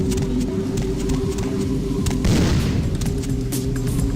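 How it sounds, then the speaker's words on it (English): A blast goes off in the video game Vampire: The Masquerade – Bloodlines, a single dull boom about midway through over a steady hum of game ambience and scattered clicks. "I exploded!"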